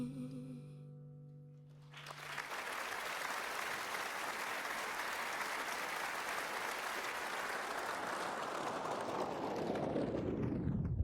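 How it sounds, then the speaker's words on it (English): Applause from a large audience at the close of a song, beginning after a brief musical ending and swelling into a dense, steady roar of clapping that holds loud for about nine seconds before fading. "the applause in the end, it actually underlines that this song is kind of cynical"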